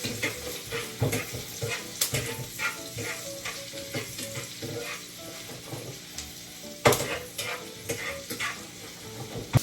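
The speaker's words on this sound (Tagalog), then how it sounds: "Ito, igisa na natin ito." Onions sautéing in a pan for hotdogs with sauce give a steady, close sizzle, broken by frequent scraping stir strokes and the occasional clink of a utensil.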